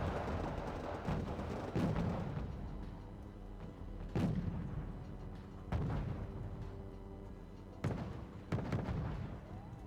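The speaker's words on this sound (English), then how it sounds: "Fighting Falcon, he's going to be dropping in bombs, good air support right here" Bombs from an F-16 Fighting Falcon air strike in the strategy game Wargame Red Dragon, a series of heavy booming explosions spaced a second or two apart over a low rumbling battle bed.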